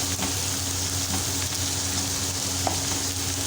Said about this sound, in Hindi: तो अब हम इसमें प्याज डाल के तो इनको थोड़ा सा कर लेंगे, बहुत ज़्यादा ब्राउन नहीं करेंगे, थोड़ा सौते करके